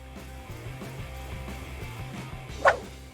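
A dog barks once, short and fairly close, over a background of rhythmic low thumping, chasing off an intruder who came to steal.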